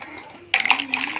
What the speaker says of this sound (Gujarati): વાસણ ધોવે છે